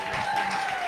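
Audience applause at a comedy show's anniversary celebration, a steady wash of clapping from a crowd, loud and continuous through the short moment, with a sustained tone riding over it.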